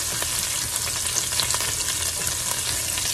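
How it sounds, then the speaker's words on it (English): Garlic and anchovy frying in a pan while being stirred, a steady close sizzle with small spoon scrapes scattered through, no voices. "just stir that around for a minute or so"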